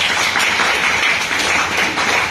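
Audience clapping together, a dense, continuous burst of applause that is close and fairly loud, holding steady for a couple of seconds with no talk over it.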